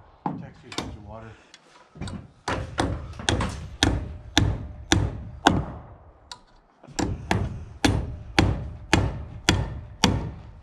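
Steady, rhythmic hammer blows striking nails into wooden roof trusses, over a dozen sharp close knocks in a row with brief pauses between bursts.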